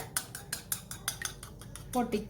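An egg beaten in a bowl with a utensil, a rapid series of close, light clinks and taps against the bowl at a steady rhythm, with a slightly heavier scrape at the end.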